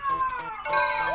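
Electronic tonal chime of a ringing phone, bright ringtone notes that slide and repeat quickly over a little more than a second, fairly close and clear.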